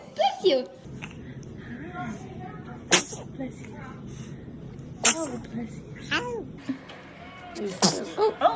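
Several short sharp sneezes from a child ring out at irregular intervals, close and fairly loud, with quiet background noise and murmured voices between them.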